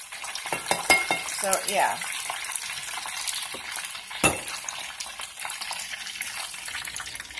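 Shrimp crackle and sizzle as they fry crisp in a pan, a steady broadband hiss with occasional stirring clinks and scrapes, close up; a voice briefly murmurs partway through.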